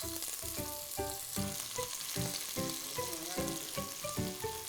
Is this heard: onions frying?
yes